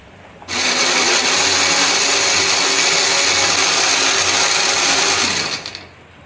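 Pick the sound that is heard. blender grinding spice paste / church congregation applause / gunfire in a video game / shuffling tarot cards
blender grinding spice paste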